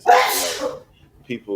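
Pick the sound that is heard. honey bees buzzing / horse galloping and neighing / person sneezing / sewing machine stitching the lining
person sneezing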